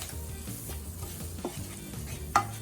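Corn and eggs sizzle in a frying pan with seasoning while a utensil stirs and scrapes, a soft steady frying hiss with a few sharper taps against the pan.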